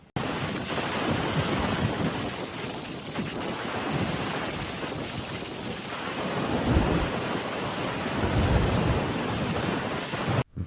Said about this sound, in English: powerful storm surge caused by Hurricane Harry, with waves exceeding 6 meters in height